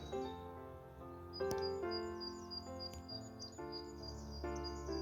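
Scattered bird chirps and song twitter faintly from several directions over a steady, low tonal background, outdoors on January 1.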